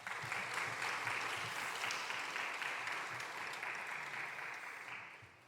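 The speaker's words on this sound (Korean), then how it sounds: "박수로 우리 환영하겠습니다." A chapel congregation applauds to welcome a visiting pastor before a sermon, a sustained, even wash of many hands clapping that fades slightly toward the end.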